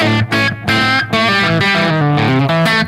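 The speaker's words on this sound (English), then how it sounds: "It's just the UA tape echo pedal." An electric guitar played through a UA tape echo pedal rings out in a run of distorted, sustained notes and chords, loud and close, with the echo smearing each note into the next.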